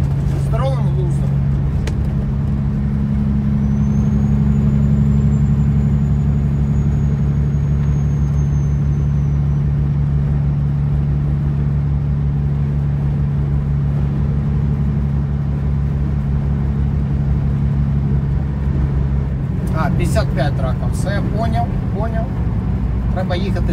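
Steady low road rumble and engine drone fill the cabin of a car travelling a highway toward Nashville in Arkansas, with someone talking over it throughout.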